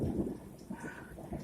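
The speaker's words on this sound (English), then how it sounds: "March 31st, we are getting pummeled by rain." Heavy late-March rain pours down with a steady, dense hiss and low rumbling underneath, heard up close with no voices.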